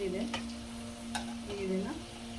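Sweet corn pakoda deep-frying in hot oil: a steady close sizzle with soft stirring sounds, brief and even in level.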